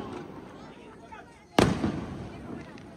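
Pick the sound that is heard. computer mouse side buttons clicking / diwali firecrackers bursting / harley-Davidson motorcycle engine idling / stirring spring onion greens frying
diwali firecrackers bursting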